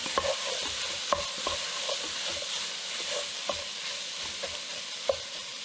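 Pepper being stirred into a cooking pot during a Nigerian cooking demonstration, with a steady sizzling frying hiss and repeated soft scraping clinks of the spoon against the pot, fairly close and without talk.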